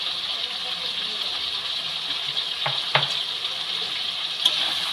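Tomatoes cooking down with ginger-cumin paste, chili paste and salt in a pan give a steady, soft hiss, broken by a few faint stirring clicks, heard close with no talk.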